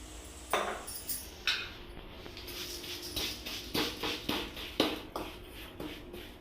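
Semiya vermicelli being stir-fried in a kadai over a low flame, with a spoon scraping and clinking against the pan in irregular soft taps and strokes, faint and close, with no talking.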